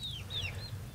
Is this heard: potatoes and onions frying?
no